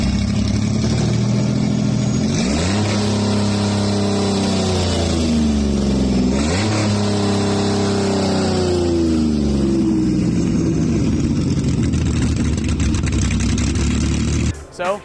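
A supercharged V12 engine in a Jeepster runs with a deep, steady drone, rising and falling through two revs and then settling, before cutting off near the end.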